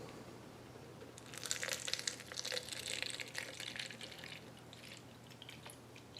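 Dye solution being poured into water for a tie-dye drip experiment: irregular splashing and trickling, moderately close, building over a few seconds and then thinning into scattered drips, with no talk.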